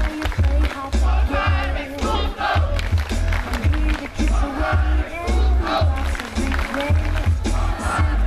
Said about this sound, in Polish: Wielkie brawa dla Pauliny, moi drodzy.